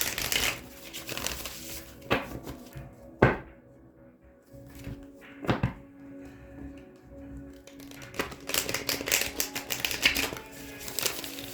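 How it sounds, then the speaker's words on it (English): Cards are shuffled and cut repeatedly, with crisp riffles and sharp taps scattered over a steady background hum, close by and moderately loud. "Let me get you some good shuffles in"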